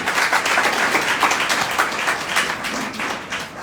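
An audience of about sixty people at a motivational speech event in Prayagraj breaks into dense, continuous applause, loud and sustained throughout the short stretch.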